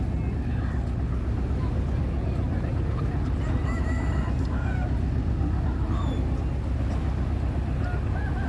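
A rooster crows amid dense background noise at a boat dock in heavy waves, where boats land farm goods and chickens; voices murmur throughout.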